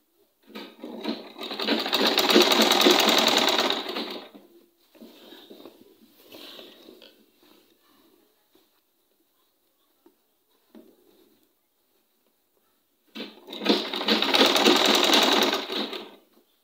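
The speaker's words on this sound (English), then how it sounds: "I'm sewing it all through to the end." Sewing machine stitching a bishop collar runs in two loud sustained bursts at the start and end, separated by quieter short stitching runs and pauses, close and alone with no talk.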